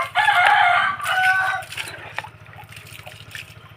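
A rooster crows loudly and close by on a rural provincial farm, with other chickens clucking. A steady low mechanical hum throbs underneath throughout.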